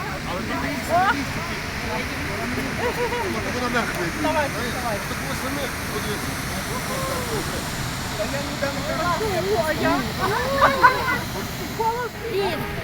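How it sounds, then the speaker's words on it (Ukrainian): Kamianka waterfall in Ivano-Frankivsk region, Ukraine, gives a steady broadband rush of falling water, with people talking and laughing over it throughout. "Сьогодні водоспад дуже гарний."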